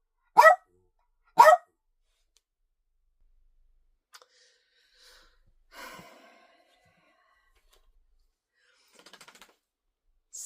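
A dog barks twice in quick succession, close and fairly loud, then goes quiet apart from faint rustles and small bumps in a quiet indoor room where a knitting and spinning craft session is underway.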